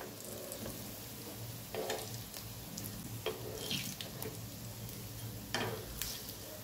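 Pea cutlets shallow frying in oil on their second side, a soft steady sizzle with occasional spatula scrapes, fairly quiet and close, no talking.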